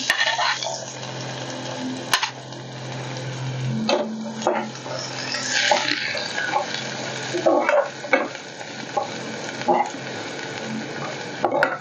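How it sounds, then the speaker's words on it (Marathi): Finely chopped onion sizzles in hot oil with chopped green chilies in a pan, under busy stirring with scrapes and taps of the spoon against the metal throughout. "आता आपण त्यामध्ये हा बारीक चिरलेला कांदा घालून घेऊया।"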